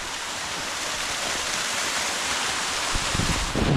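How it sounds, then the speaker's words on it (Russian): A half-frozen waterfall at Morskie Oko in Poland, heard up close as a steady, broad rushing roar of falling water with no voices. "Подошел к этому водопаду поближе"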